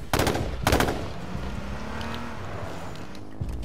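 Gunfire in the battle royale game H1Z1, two loud close bursts of shots at the start and a faint one near the end, over a steady vehicle engine drone.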